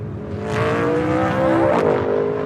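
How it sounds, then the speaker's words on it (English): A Ford Mustang race car's Coyote V8 engine roars steadily and climbs in pitch as it revs at Sonoma Raceway, loud and close with no voices. "How good does this Mustang look, and maybe more importantly, sound? Yeah, that's the Coyote V8."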